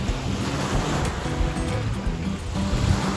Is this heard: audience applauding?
no